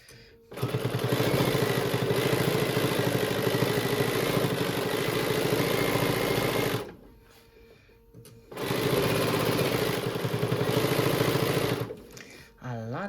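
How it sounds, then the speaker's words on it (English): A sewing machine runs steadily stitching through many bulky fabric layers of a quilted pillow top, a loud close rapid mechanical whir in two long runs separated by a short pause, ending with a brief burst. "Stitching through a lot of layers here."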